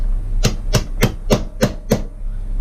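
Six evenly spaced sharp metallic strikes as a socket is used as a leverage tool to hammer a part home while lowering a Triumph Sprint GT 1050 motorcycle, close and loud with no talk.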